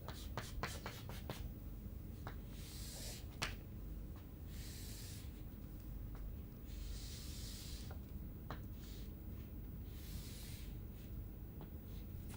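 A pen sketches a drawing on paper, quick scratchy strokes in bursts followed by longer soft rubbing passes, close and fairly quiet, with no talking.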